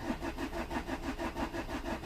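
A Vauxhall Corsa D 1.3 CDTi diesel engine cranking without firing, a rhythmic, evenly pulsing starter churn at about five beats per second, steady and close.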